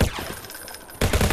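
Gunfire in the VR shooter Alvo on Meta Quest 2 strikes the player, a dense burst of rapid automatic shots up close, easing off briefly before a loud renewed volley at the end.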